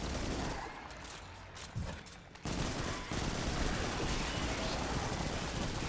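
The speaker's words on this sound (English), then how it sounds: "Get some more auto rifle kills here if we can." Sustained automatic rifle fire from the first-person shooter Destiny, a dense rattling barrage that starts after a brief lull, continues loud and steady to the end, and mixes with other game effects.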